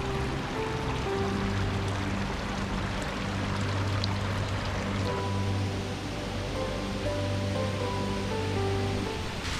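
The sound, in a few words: rushing waterfall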